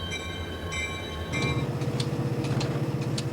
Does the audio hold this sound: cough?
no